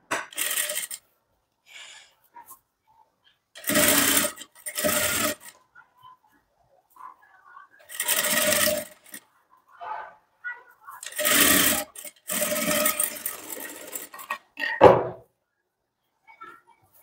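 A sewing machine stitches a blouse in several short bursts, close and fairly loud, interspersed with quiet moments of rustling fabric and small handling knocks.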